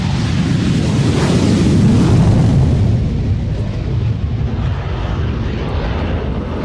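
An F-104 jet roars loud and continuous during its takeoff at an air show, a broad rushing thunder that swells in the first seconds and then slowly fades as the aircraft pulls away.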